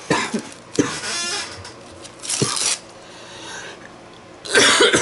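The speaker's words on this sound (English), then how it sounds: "I don't mean to be coughing and gagging through these whole videos" Coughing from an adult woman during a craft session: several harsh bursts spread over a few seconds, close and fairly loud, with quieter rustling between them.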